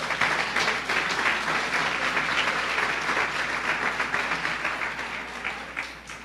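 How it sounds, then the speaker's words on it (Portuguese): A church congregation applauding during a sermon, a steady roomy wash of many hands clapping at moderate loudness that slowly tapers toward the end, without speech on top. "Uma salva de palmas ao Senhor."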